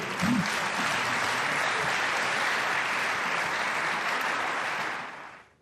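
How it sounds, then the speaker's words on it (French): Dense, steady applause fills the French Senate chamber after vice-presidents are proclaimed, sustained for several seconds at even loudness before tapering off at the end. "Oui, vous pouvez les applaudir."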